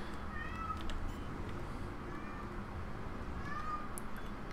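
A pet cat named Clive meows repeatedly in a room, its calls rising faintly over a steady low hum of background noise.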